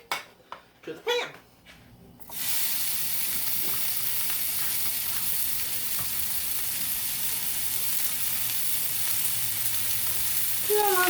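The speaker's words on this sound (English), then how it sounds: "To add my steak to the pan." Mushroom steak dropped into a hot pan, a few short voiced sounds first, then a sudden loud sizzle that holds steady and close, with brief speech over the opening.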